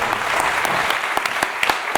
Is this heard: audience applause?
yes